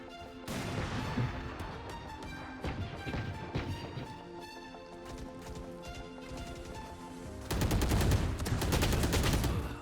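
Repeated gunshots from a shooting video game, loud sharp reports scattered through a dense layer of game music and effects, with a louder burst of firing near the end.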